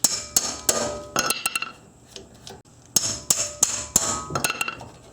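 Sharp metal hammer blows strike a Honda or Acura brake rotor to break loose its two retaining fasteners, landing in two loud, ringing bursts of quick strikes separated by a short pause.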